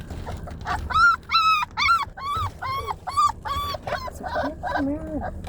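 A dog whimpers and whines in a rapid series of high, quavering cries, close by and insistent.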